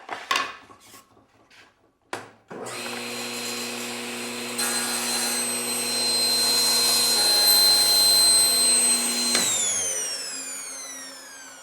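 A table saw fitted with a riving knife starts up after a few brief knocks. The motor settles into a loud steady whine, then a rougher, louder stretch of wood being ripped lasts about five seconds before the blade winds down.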